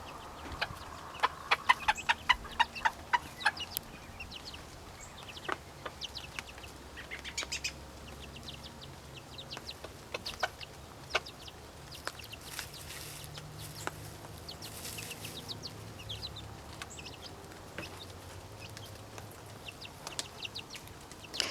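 Young mixed-breed chickens clucking and chattering nearby, with a burst of rapid clucks early on, then scattered soft chirps and calls over a quiet outdoor background, without talk.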